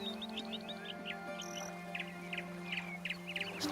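Short bird chirps and tweets in the adventure video game Lost Chronicles of Zerzura, a blue bird on the island of Malta, with several quick high calls repeating over a steady low ambient hum.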